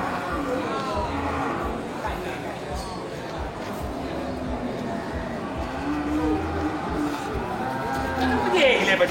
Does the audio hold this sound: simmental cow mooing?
yes